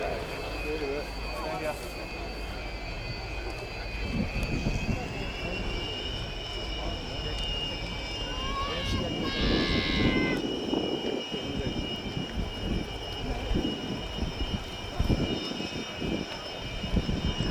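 RAF Chinook helicopter of 27 Squadron performing at an air display, a steady loud rotor and turbine roar with a whining tonal hum that rises and shifts as it manoeuvres, with a commentator talking over it.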